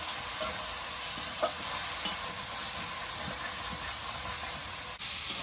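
Okra and shrimp fry in a pan while being stirred, giving a continuous soft hiss and sizzle with a few faint scrapes, heard up close with no talking.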